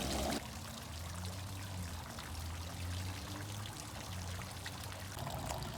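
A garden pond fountain gives off a steady, close trickle and splash of running water that carries on without a break.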